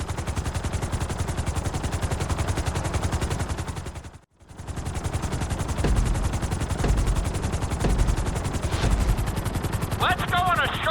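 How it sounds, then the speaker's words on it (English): A helicopter in GTA V flying during a flight school course, a loud, continuous rapid rotor chop with a brief dropout midway and a voice speaking near the end. "we'll see how well you handle the chopper"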